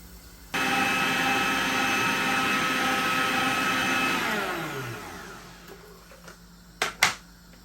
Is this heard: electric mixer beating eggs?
yes